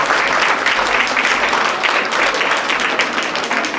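Wedding guests at a convention hall ceremony break into loud, dense applause as the wedding begins, a continuous wash of many hands clapping close by.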